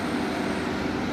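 A Carlina Trans bus on the Sambeng hill climb in Gunungkidul rumbles past close by, a dense, loud roar of engine and road noise filling the whole short moment.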